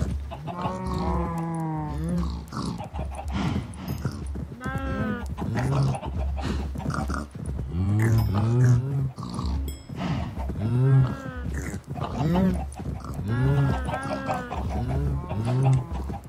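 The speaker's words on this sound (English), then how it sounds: "A whole bunch of baby cows." A herd of baby cows in Minecraft lowing again and again, clear moos and bleat-like calls overlapping in close succession, loud and near, with a few clicks between.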